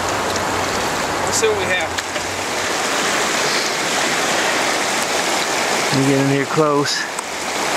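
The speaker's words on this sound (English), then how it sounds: "I'm gonna run it through the sluice." Water rushes steadily through a gold sluice on a Gold-N-Sand trailer, a loud continuous wash with someone talking briefly over it.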